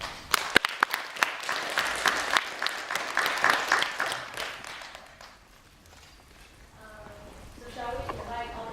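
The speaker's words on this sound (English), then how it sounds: "a round of applause for all of them" An audience claps for student groups at a prize presentation, with dense applause and a few louder close claps that fade out. Voices talk quietly near the end.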